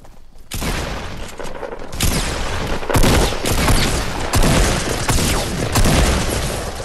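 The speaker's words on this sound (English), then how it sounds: "Someone shooting at me." Gunfire from the video game Fortnite: a dense fusillade of rapid shots and booming impacts after a brief quiet start, sustained and loud throughout.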